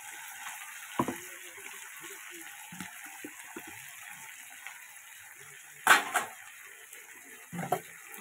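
Cumin, ginger and green chilies fry in a pan with a soft, steady sizzling hiss, broken by a few sharp clinks of a utensil against the pan.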